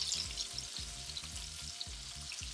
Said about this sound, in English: So we're going to add our onions to this side right here